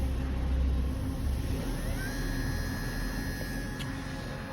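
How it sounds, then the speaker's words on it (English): A car window motor running on a test bench with failed Hall sensors, giving a steady close electric hum and whine with a faint rising tone partway through. "You can just see the motor moving there."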